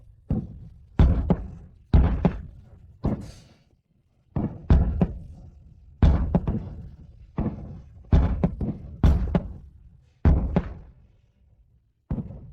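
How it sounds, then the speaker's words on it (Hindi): Fireworks explode in a steady series of a dozen or so deep booming thuds, each sharp onset trailing into a short rumbling decay, with no voices. "मैंने इतनी खूबसूरत आतिशबाजी पहले कभी नहीं देखी।"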